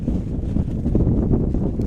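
Steady wind buffeting an outdoor microphone at a six-a-side soccer match in Cole Harbour, a continuous low rumble with gusty swells and no voices.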